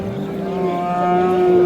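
A young bull at a livestock market gives one loud, drawn-out moo, close by, with a steady tone that swells slightly toward the end.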